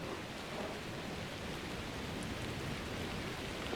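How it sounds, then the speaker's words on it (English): Steady, loud rain falls without a break in the video game Shelter 2. The broadband hiss holds at an even level from start to finish. "Oh, it's raining. Rain's nice."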